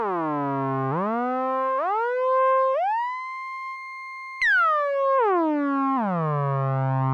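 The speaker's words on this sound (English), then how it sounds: "We've also got a portamento control as well, so we can start adding some glide" A buzzy Korg miniKORG 700Sm analog synthesizer tone glides smoothly up in stepped portamento slides, holds a pure high note, then jumps and slides back down again, loud and unaccompanied.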